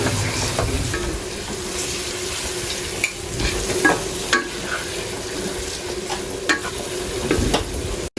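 Small beef pieces for tehari being stirred and mixed in a pan, a steady sizzle with scattered scraping knocks of the spoon against the pan, close and continuous with no talking.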